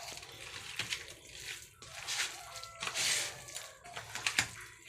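Small shrimp are washed by hand in water, giving close, faint splashing and sloshing in irregular bursts with brief pauses between them.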